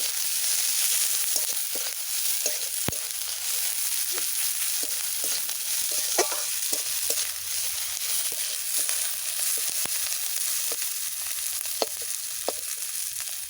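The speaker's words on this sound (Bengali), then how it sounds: "এবার আমি এটাকে কড়াই নেড়ে নেব।" Cumin, mustard seed, curry leaves, onion and chilli sizzle in hot oil in a wok while being stirred, a steady bright hiss broken by sharp scraping clicks of a spatula against the pan, close and without talk.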